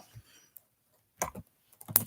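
Sparse clicks of typing on a computer keyboard, a few soft isolated taps followed by a short burst of quick keystrokes, faint and close with no talk.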